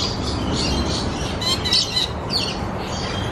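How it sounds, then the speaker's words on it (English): A lorikeet chatters in a park aviary, bursts of shrill chirps and squawks close by and fairly loud over steady background noise. "A chatty lorikeet."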